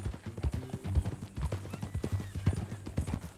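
Horse hooves clip-clop at a brisk, uneven walking rhythm in Red Dead Redemption 2, close and moderately loud, over a low rumble with a faint trace of speech.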